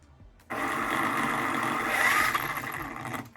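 Electric motor of a Team Corally Asuga XLR 6S RC car spinning up under throttle: a dense, buzzing whir that starts abruptly and holds steady and loud, swelling slightly midway before easing back.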